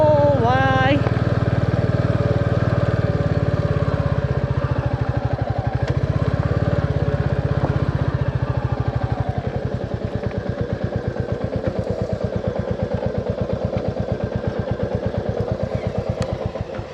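A motorcycle engine runs steadily on a ride from Butwal to Palpa, a low rumbling drone that settles into a clear, rapid firing pulse in the second half, with voices heard over it early on.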